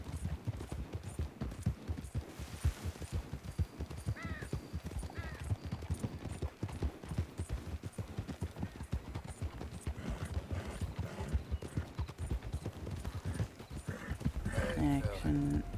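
Steady clip-clop of horse hooves in Red Dead Redemption 2 trots along in a regular rhythm while a voice talks over it throughout.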